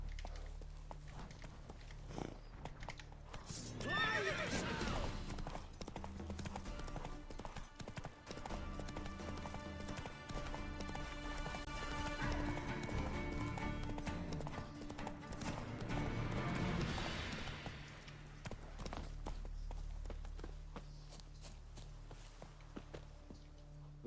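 Hooves of the horse Roach clip-clopping at a walk in The Witcher 3 video game, a steady near rhythm of footfalls with a faint whinny, heard alone without talk.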